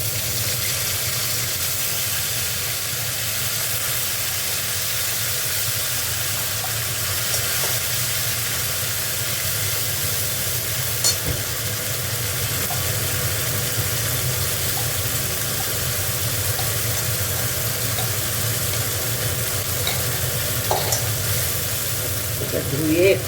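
Ginger, tomato, cumin and chilli-turmeric paste frying in a hot pan, a steady sizzle and hiss that stays even throughout, with occasional faint clicks and stirring.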